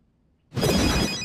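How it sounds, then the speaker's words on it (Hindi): Telephone ringing after a moment of silence, an electronic ringtone that starts abruptly and stays loud and steady to the end. "फोन है भैया, फोन है।"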